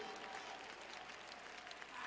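A church congregation at a mission convention claps their hands in worship, a continuous, even patter of many hands heard faintly and from a distance.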